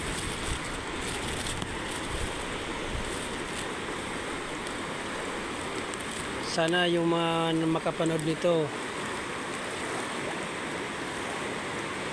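A typhoon-swollen river roars steadily throughout, a broad constant wash of strong current, while a person speaks briefly partway through.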